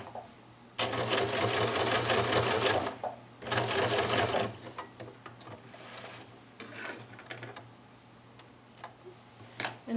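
A sewing machine stitching nylon strapping runs in two rapid, loud bursts of mechanical whirring and clatter, then slows to short intermittent stitches and clicks, close up.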